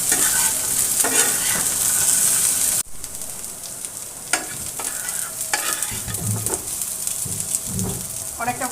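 Drumstick pieces (sajna data) fry and get stirred in a hot pan, with a steady close sizzle and a spatula's scraping strokes throughout.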